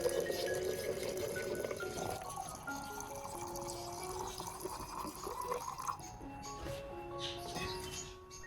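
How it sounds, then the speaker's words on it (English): Hot water being poured into a container while preparing an aloe vera nutrient solution for orchids, a steady liquid fill with gurgling and shifting tone, fairly faint and close. "Then add another 500 milliliters of hot water to help release the nutrients faster"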